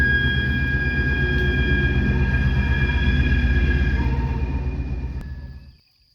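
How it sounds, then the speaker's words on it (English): Freight train of rail cars rumbling along the track as cars are dumped and switched near a chemical lime plant, a steady loud low roar with faint high wheel squeal that fades out toward the end. "Trains dumping, and then they're going to switch cars around."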